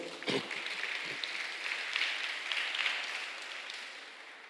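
Congregation applauding in a church during a Carnaval com Cristo sermon gathering, a soft, even patter of many hands that swells slightly midway and stays fairly distant and moderate in level.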